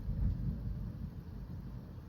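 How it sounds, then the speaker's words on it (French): Deep thunder rolls low and steady during a violent thunderstorm in Bordeaux, a distant rumble that swells near the start and then holds at a softer, continuous grumble, with no voices. "Comment c'est possible qu'il y ait encore des orages violents là?"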